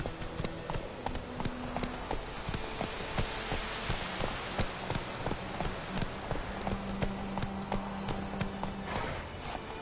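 Hooves of Geralt's horse Roach in The Witcher, a steady clip-clop at a trot, close and continuous over a rainy backdrop.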